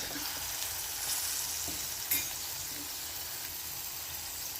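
Fish curry frying with salt and kudampuli, stirred in a pan: a steady, bright sizzle with occasional soft knocks and scrapes of the spoon, close and even.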